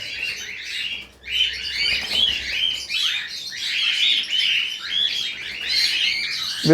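A group of cockatiels in a breeding aviary, breeder pairs perched together, chirp and tweet in busy overlapping bursts, fairly close and continuous with no talking.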